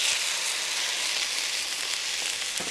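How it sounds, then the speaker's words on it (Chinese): Rice wine and stock hit a hot wok while cooking Portuguese-style chicken, giving a loud, steady broadband sizzle that holds for the whole stretch, with a brief spatter or clank near the end. "那么这个时候呢就要把这个酒和这个高汤下锅"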